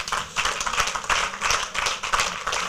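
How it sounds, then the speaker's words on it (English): Sustained round of applause from a crowd at a professional association's general meeting, many hands clapping densely and steadily throughout with no pauses. "deserves a serious round of applause"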